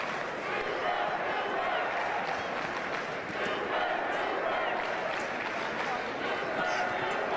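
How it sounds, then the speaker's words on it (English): Crowd yelling at a state wrestling championship match, a steady roar of voices and shouts in a large arena, continuous and even throughout, with commentary talk over it. "The crowd's yelling again at you"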